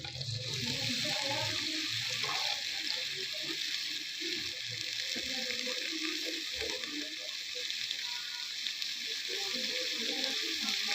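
Two medium-size onions frying in hot oil in a pan for bhindi masala, giving a steady, continuous sizzle with occasional soft stirring sounds close by.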